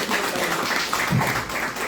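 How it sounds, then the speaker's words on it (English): A seminar audience claps for a speaker at a book launch, a steady, even wash of hand claps filling the room at moderate loudness with no voices over it. "everyone give a big round of applause to Dr. Tan Pin Chin"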